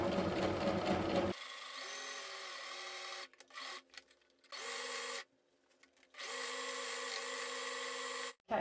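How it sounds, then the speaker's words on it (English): Sewing machine stitching a thick ribbon for a drawstring bag, running in steady motorized bursts with short pauses between runs, close and clear with no talking. "So let's take this to the sewing machine"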